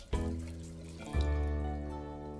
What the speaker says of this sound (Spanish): Abro el grifo.